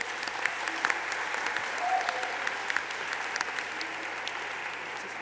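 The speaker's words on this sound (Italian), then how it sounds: "Un applauso." Audience applause at a school event on Latin, a dense, steady wash of many hands clapping together for the full length, moderately loud, with faint crowd murmur beneath.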